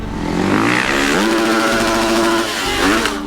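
Engine of a full-size dirt bike readied for a freestyle motocross backflip, revving loud and close in a rising and falling buzzing drone with a brief throttle dip near the end.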